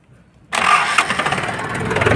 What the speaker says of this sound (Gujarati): ચાલુ થઈ ગયું ટ્રેક્ટર ટ્રેક્ટર ચાલુ થઈ ગયું